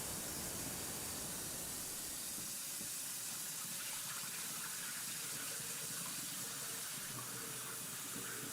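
Room-temperature water pours steadily from a tap while kimchi is being made, a close, continuous gushing rush that holds for the whole stretch with no voices.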